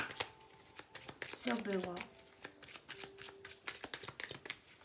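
Lenormand fortune-telling cards being shuffled by hand, a run of quick crisp riffling flicks close up, with someone speaking over part of it.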